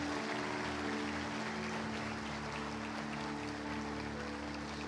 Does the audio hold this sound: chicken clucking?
no